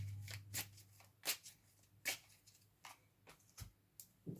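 A deck of tarot cards is shuffled quickly by hand, with quiet, close riffling bursts and soft card slaps coming in an uneven rhythm, no voices.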